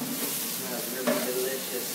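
Chili powder being stirred into a curry that is already sizzling in the pan: a steady, close hiss and sizzle that swells briefly near the midpoint as the spoon moves, with no talk.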